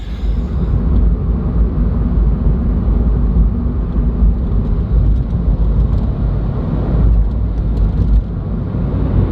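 Car driving on a cool, foggy morning, heard from inside as a steady, loud rumble of engine and road noise that continues without a break and without talk.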